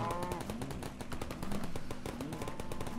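Video game turrets firing rapidly at cows, a dense, continuous stream of loud machine-gun bursts with steady rapid rhythm throughout, alone without talk.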